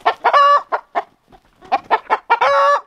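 A rooster and hens on a homestead clucking and squawking close by in a run of loud, harmonic calls, two bursts separated by a short pause.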